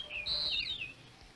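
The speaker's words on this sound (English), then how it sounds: "I'm listening for the bird." Bright, high bird chirps from an animated short, a sustained warbling call with a short trailing tweet, heard clearly and fairly close with no talk over it.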